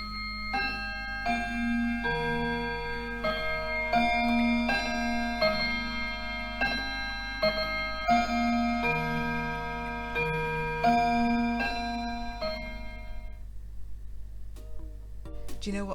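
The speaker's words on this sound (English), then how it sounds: "Yeah, it was a clock chiming." A clock chimes a repeated sequence of bell-like tones, steady and fairly loud, each note ringing on with sustained overtones before the strikes stop and fade out near the end.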